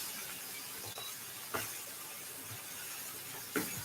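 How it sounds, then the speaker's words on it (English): One whole sliced onion sautéing in a pan for a breakfast casserole: a continuous soft hiss and sizzle throughout, with a few faint clicks of utensils. "I'm just going to saute this."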